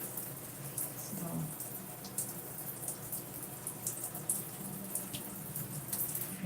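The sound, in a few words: shower water running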